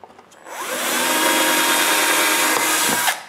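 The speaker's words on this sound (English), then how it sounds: "after drilling some pilot holes, I can screw the jig in place" A power drill bores pilot holes into a wooden router jig, spinning up quickly into a loud, steady whine that holds for a few seconds and then cuts off.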